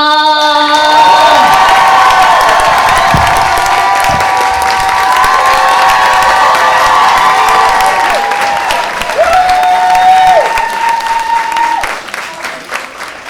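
A large crowd at a comedy show cheers and applauds loudly for the headliner, with whoops and shouts rising over sustained clapping, fading slightly toward the end.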